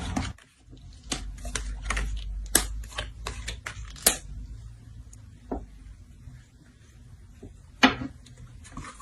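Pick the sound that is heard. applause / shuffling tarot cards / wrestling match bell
shuffling tarot cards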